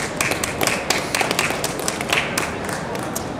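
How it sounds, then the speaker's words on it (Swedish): Applause from an audience greeting a prize winner on stage at a photography fair awards ceremony, a steady wash of many hands clapping at moderate distance. "Välkommen på scen och en stor applåd."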